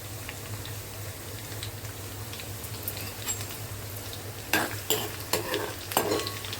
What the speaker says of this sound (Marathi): हे बघा लसूण ठेवलाय शिजत।